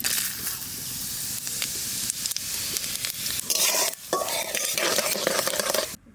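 Dried chilies and panch phoron sizzle in hot mustard oil for Bengali brinjal pickle, a loud, continuous hissing crackle with stirring scrapes and a brief dip near the end.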